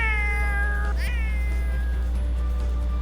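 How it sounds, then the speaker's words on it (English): A cat in The Sims video game lets out a long, drawn meow that bends upward midway and trails off, alone over a steady low hum, fairly clear but not loud. "that low-key sounds like the way my cat meows"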